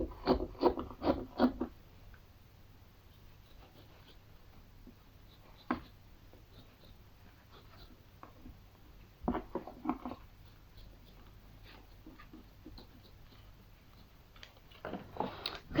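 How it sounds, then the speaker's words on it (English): Scissors roughly cutting around a paper puppet pattern in short bursts of snipping and rubbing, loudest at the start and end with a few isolated snips between, close and fairly quiet with no talk. "you're going to take your scissors and obviously just roughly cut around it"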